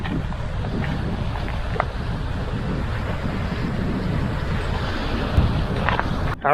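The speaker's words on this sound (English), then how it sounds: "The wind is blowing." Wind blows across a cliff in Greece, a steady, loud roar buffeting the microphone with no voices, holding level throughout.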